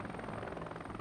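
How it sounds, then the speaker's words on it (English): A helicopter in the video game Heliborne, a steady loud rotor chop with a dense engine roar that holds continuously throughout, no voices. "as I move my helicopter around"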